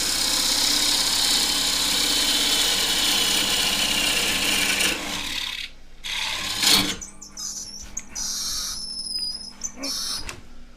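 A gouge cuts a green casuarina bowl on a wood lathe, making a loud continuous rasping scrape that suddenly stops, leaving the motor's hum and scattered knocks and clatters.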